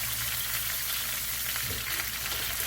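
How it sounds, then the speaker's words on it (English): Portobello mushrooms cooking in a pan give off a dense, even sizzle that holds steady from start to finish, close and moderately loud, with no voices over it. "I'm cooking some mushrooms"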